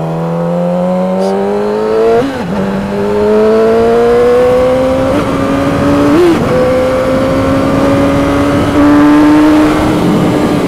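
600cc sportbike engine revving hard while accelerating, pitch climbing steadily through the gears with brief dips at each shift; loud, close and continuous with no talk.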